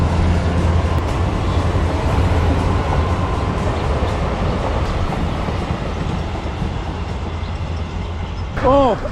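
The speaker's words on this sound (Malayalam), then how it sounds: "തീവണ്ടി" A train rolls past on a railway line near Pambam on a coastal trip, with a loud, steady rumble and rattle of wagons throughout and a brief horn-like tone near the end.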